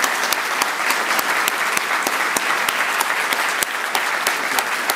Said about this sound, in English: if you could all please give a big warm round of applause to David Braben